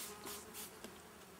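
Honeybees buzz steadily and faintly around an open beehive, a continuous low drone with small swells, with no voices.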